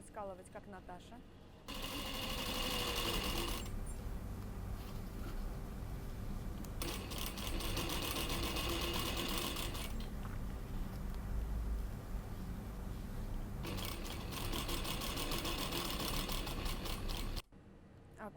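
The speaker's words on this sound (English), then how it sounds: "Do not forget to make back stitches in the beginning and the end of the seam." A sewing machine stitches a sleeve seam in several runs of steady, fast mechanical whirring separated by pauses, with a person speaking throughout.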